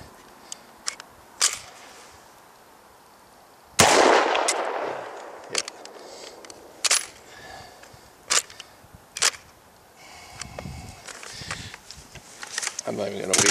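A C93 pistol firing 55 grain ammunition, with a few sharp, isolated cracks spread out among quieter handling clicks and rustles outdoors, and a voice talking in between.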